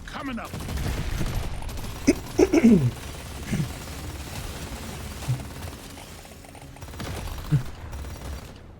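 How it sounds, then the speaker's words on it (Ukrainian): An incendiary grenade thrown in Deep Rock Galactic: Survivor, heard as a burst of crackling, popping blasts amid steady game noise, followed later by a couple of fainter pops. "Давайте запальну гранату."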